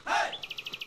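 Small birds let out a rapid run of sharp, high chirps, about eight in a row at an even pace. A brief breathy swoop comes first, and the calls are fairly faint and clear with no speech.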